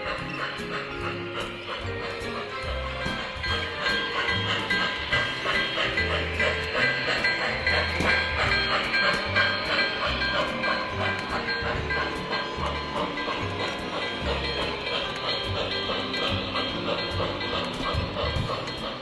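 An O scale MTH RailKing 4-6-2 model steam locomotive chugs along its track with a steady rhythmic clatter and whirring motor, continuous and close.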